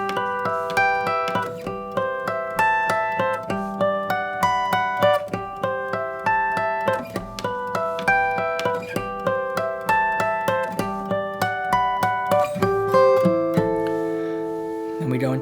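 Solo fingerstyle guitar plays the intro of a song, plucked notes and chords arpeggiated in a gentle, steady rhythm, close and clear with no talking.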